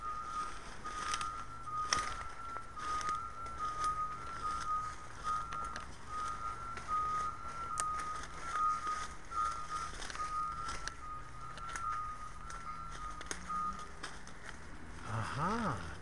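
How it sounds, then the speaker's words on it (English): A sewage truck sounding a steady run of evenly spaced, close reversing beeps over a low engine rumble, ending with a brief rising whine. "It's like a sewage truck"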